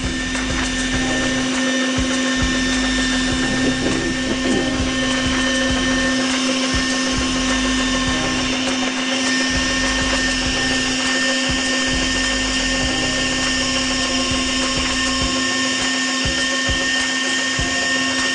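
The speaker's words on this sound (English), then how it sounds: "Can you stop the machine for a moment, Stephen?" A Mellerware Savoy electric mincer stuffing sausage casing runs with a steady, loud motor drone and whine that holds unbroken throughout, close by, with no talking.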